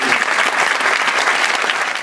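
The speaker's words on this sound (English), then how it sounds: "Please join me in applauding" Loud, sustained applause from a crowd at a university global health commencement ceremony, a thick continuous burst of clapping close by.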